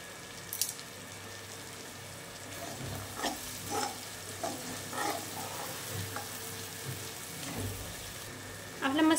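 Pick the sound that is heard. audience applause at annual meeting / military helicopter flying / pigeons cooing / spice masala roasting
spice masala roasting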